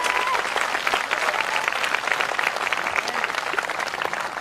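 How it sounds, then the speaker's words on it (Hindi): Congregation clapping at a Hindi-language Christian worship service, a dense steady wash of applause from a crowd that carries on throughout, with a little voice mixed in. "आइए हम अपने खुदा के लिए एक अच्छी ताली बजाएं।"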